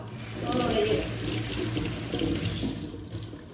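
Garlic cloves being rinsed under a running kitchen tap while cooking rasam, giving a steady splashing rush of water into a sink that swells and then eases off, loud and close.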